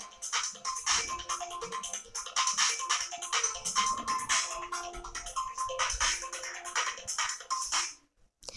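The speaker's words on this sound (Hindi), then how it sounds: "आपका फोन बज रहा है" A phone ringtone plays continuously as a bright, repeating electronic melody, fairly loud, cutting off just before the end.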